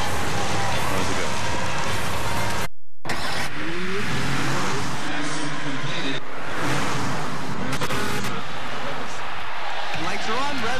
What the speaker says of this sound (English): Lights are on. Revs are coming up.